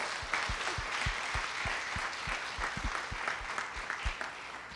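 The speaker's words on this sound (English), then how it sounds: "Will you guys please give them a round of applause?" A school audience applauds students who raised $10,000, a dense ripple of clapping with several distinct claps nearby, moderately loud and sustained without speech.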